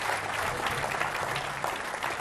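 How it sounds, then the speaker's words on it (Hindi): A TV debate show's studio audience claps steadily, a dense, even patter of applause throughout with no one speaking over it. "तालियों के साथ स्वागत कीजिए"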